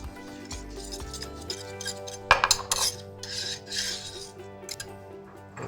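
An egg yolk soufflé base stirred quickly with a utensil in a bowl, giving repeated scraping and rasping strokes with light metallic clinks over faint background tones.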